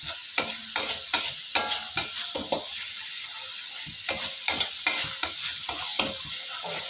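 Spices for Yogyakarta-style bacem are stirred in a wok with a little water, a spatula scraping and knocking against the pan in irregular repeated strokes over a faint background sizzle.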